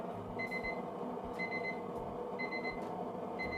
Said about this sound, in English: that's the timer letting me know that our fryer is ready